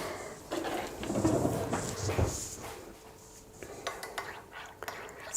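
Tea with honey and salt is stirred in a cup, a spoon clinking and scraping against the sides in short bursts, close by, with a quieter stretch before a few more taps.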